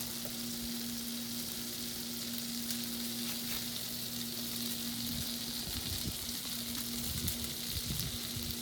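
A pound of ground beef fries in a pan, a steady soft sizzle and crackle throughout, close but fairly quiet, with faint scraping as it is broken up.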